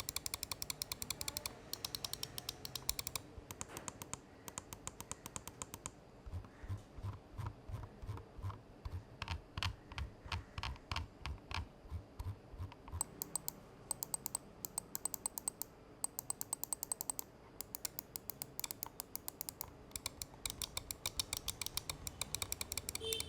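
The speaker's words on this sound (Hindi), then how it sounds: "ये सारे बटन्स का जो ऑडिबल फीडबैक है वो यहाँ पे काफी ज्यादा सैटिस्फाइंग है" Button clicks from a Razer Viper Ultimate gaming mouse, sharp rapid clicks in fast bursts and steady runs, close and crisp, with a mechanical rattling texture across the whole stretch and no talk.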